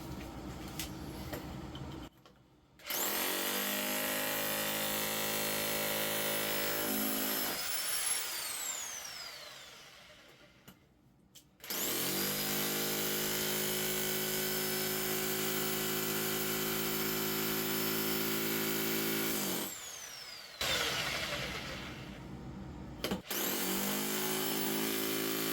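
A power hammer breaks up a concrete basement floor for drain pipe repair, loud and close, running in long continuous bursts separated by short pauses, with no talking.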